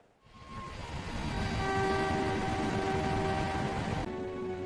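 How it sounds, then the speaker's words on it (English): A train pulls into a station as a broad, steady rumble that swells in over the first second and holds loud and close, with faint sustained tonal squeals riding on top. "Look, Mom, the train is arriving."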